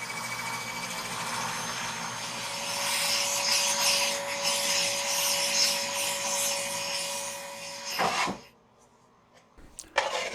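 A steady abrasive rubbing hiss over a constant lathe motor hum, sanding a spinning live-edge wooden bowl with torn end grain, stops abruptly near the end, leaving a few faint knocks.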